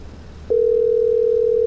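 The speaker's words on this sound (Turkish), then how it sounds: "Çalıyor." A telephone tone in the video game Tailor Simulator starts after a brief quiet moment and then holds as a single loud, steady, unbroken tone to the end.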